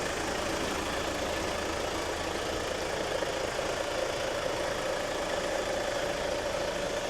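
A truck engine idles at close range, giving a steady low drone with a light knocking texture and a faint tonal hum, unbroken and free of speech.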